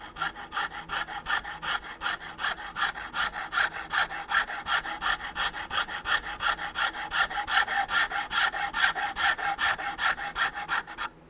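Japanese Shinto rasp filing wood during a shotgun stock repair, a steady rhythm of quick scraping strokes, close and moderately loud, continuing without pause for over eleven seconds with no talk.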